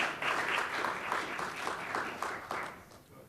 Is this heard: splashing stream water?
no